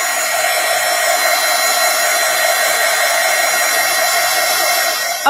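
A hair dryer dries paint on a paper bag journal page, a loud, steady close-up whoosh with a whining motor tone that runs without a break and cuts off at the very end.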